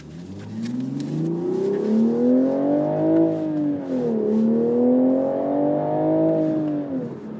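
A manual Toyota GR Supra in sport mode with traction control off revs up through the gears, engine note rising, dipping at a shift, then climbing again, loud and close from inside the cabin.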